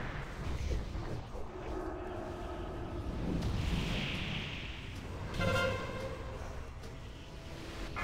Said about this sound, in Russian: Сейчас взрыв будет.